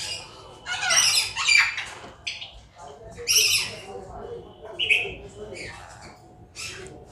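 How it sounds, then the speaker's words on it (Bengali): Lorikeets at an exotic bird exhibition let out shrill, screechy calls in several sharp bursts over a busy background of people talking. "এটা হচ্ছে লরিকিট।"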